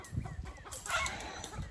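Chickens cluck softly in a backyard flock during morning chores, with faint scattered clucks and low rustling at close range and no talk.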